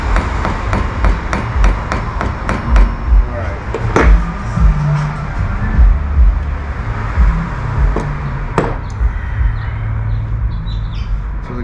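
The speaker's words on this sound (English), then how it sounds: "So I'm using the ball end of the hammer, ball peen hammer" A ball peen hammer strikes a metal handrail in a steady run of sharp, ringing blows, close and loud, with faint traffic and birds in the background.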